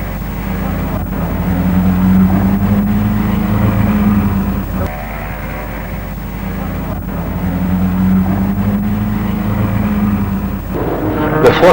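Traffic on the busiest avenue of Las Palmas produces a steady low roar of engines and tyres, with vehicles swelling and fading as they pass close by in a continuous stream.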